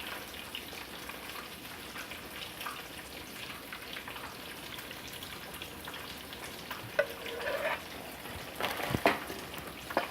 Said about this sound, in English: we're just going to keep frying these until they're a nice golden brown